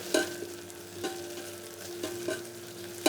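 Onions fry in a pan, browning before lamb goes in. They give a low sizzle and a few soft stirring knocks about a second apart, with no talk.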